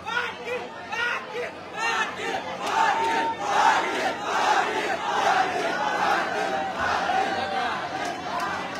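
A large crowd at a protest gathering fills the air with loud, continuous shouting, chanting and chatter from many voices, swelling and dipping without pause.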